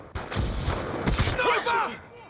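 Dense, overlapping gunfire and explosive booms rumble through a Black Ops 2 match, with a voice shouting over the steady barrage.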